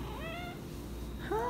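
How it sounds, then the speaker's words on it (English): A house cat meows twice, first a drawn-out wavering call and then a shorter rising meow, close and clear against a quiet room hum. "I'm gonna pet a cat, and that'll be helpful."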